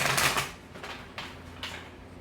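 Two tarot decks are shuffled by hand in a few quick riffling bursts, close and crisp, each flurry of card edges separated by short pauses.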